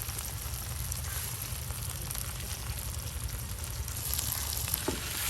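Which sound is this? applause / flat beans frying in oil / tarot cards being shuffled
flat beans frying in oil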